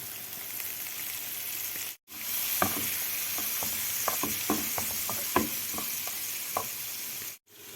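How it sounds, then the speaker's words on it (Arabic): Sausage cooking in a frying pan with tomato paste, a dense steady sizzle with intermittent spoon-stirring scrapes and taps, close up, briefly cut to silence at each end, no talk. "ونقلب كله مع بعضه"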